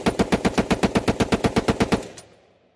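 Colt Monitor rifle, a monitor conversion by Group Industries fitted with a compensator, firing fully automatic on the fast setting: a rapid, even burst of about fifteen loud close shots, then a short echoing decay.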